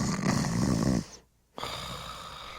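A small creature snores softly, one long rasping breath followed by a brief silent pause and then the start of another snore, close and quiet.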